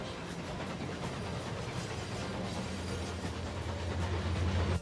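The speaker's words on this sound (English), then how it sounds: "There goes the train" A train passing with a steady rumbling roar and faint rhythmic clatter, growing slightly louder toward the end.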